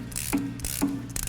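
Ratchet wrench fitted with an extension and swivel tightens bolts, giving short bursts of rapid metallic clicking in about three strokes, close and moderately loud, with no talk.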